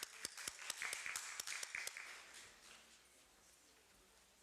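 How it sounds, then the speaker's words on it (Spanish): Scattered applause from a small audience at a family medicine congress in Cuba, a few distinct claps at first that quickly thin out and fade over a few seconds. "Aplauso."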